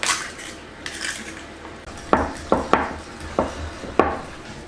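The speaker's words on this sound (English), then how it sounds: "so I want a beaten egg" A fork or whisk beats an egg in a bowl, sharp clinks against the dish repeating irregularly about every half second, close and clear over soft background hiss.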